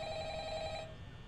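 A telephone ringing in the video game Five Nights at Freddy's: a faint, steady electronic ring tone that holds for under a second and then cuts off, with no voices.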